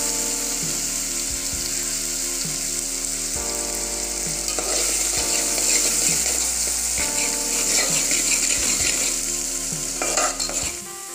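Crushed garlic and cumin sizzle in hot oil in a pan for a potato and spinach dish, with a loud, continuous frying hiss and stirring scrapes up close, plus a steady low background hum.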